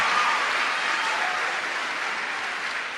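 An audience at a talk applauds steadily, a dense even wash of clapping from a large crowd that fades slightly toward the end.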